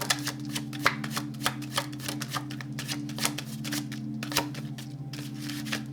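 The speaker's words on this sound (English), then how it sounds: "These are never the easiest cards to shuffle." Tarot cards being shuffled by hand, a quick run of crisp riffling flutters and soft slaps repeating roughly every half second, close and fairly loud over a steady low hum, with no talking.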